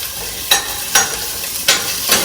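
Garlic sizzles and glazes in the pot that will later cook pork for chile verde. A steady frying hiss runs underneath four sharp stirring scrapes that come at fairly even intervals.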